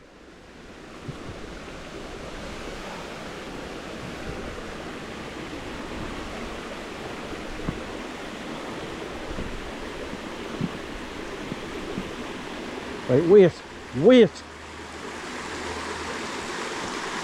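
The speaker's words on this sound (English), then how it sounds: "all the water comes cascading around this S-bend and goes underneath the bridge here" Water cascades around an S-bend beneath a bridge at a waterfall, a steady broadband rush throughout. Someone speaks briefly near the end.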